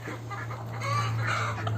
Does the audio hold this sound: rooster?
yes